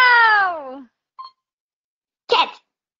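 A cat gives a single drawn-out meow that falls in pitch, heard up close. After a pause come two brief, sharp vocal bursts.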